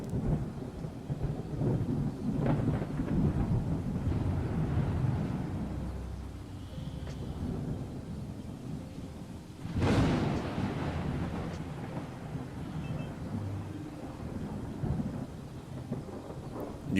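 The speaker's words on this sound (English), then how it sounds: "I love the thunder effects they've got going on." Thunderstorm effects in the Star Trek Outposts Unknown video game: steady rumbling rain and low thunder throughout, with a sharp, loud thunderclap near the middle before the storm settles back into a continuous wash.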